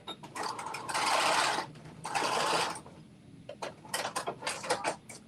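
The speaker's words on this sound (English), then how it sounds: "I'm just making sure my strap is straight before I sew over it. And then I'm going to back stitch." A home sewing machine stitches over a fabric strap of an off-the-shoulder top, running in two long whirring bursts and then a few short back-stitch spurts, close and clear.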